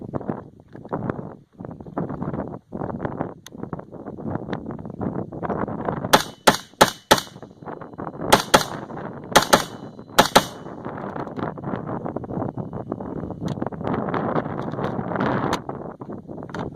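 Guns fired outdoors on a South Dakota range crack out in sharp, loud shots, a few single reports, then quick clustered pairs and triples, over steady wind buffeting the microphone.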